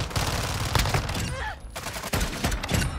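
Dense gunfire in the Modern Warfare 2 video game, a rapid fusillade of automatic shots that runs loud and nearly continuous, with a brief lull midway before the bursts resume.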